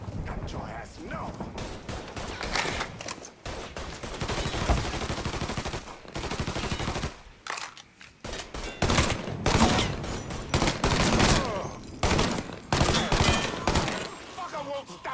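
Dense gunfire in the Mafia 3 video game, with rapid automatic bursts and fusillades crackling in loud clusters and brief lulls, while voices shout over the shooting.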